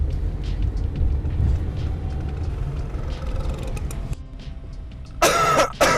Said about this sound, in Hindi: खांसी हो रही है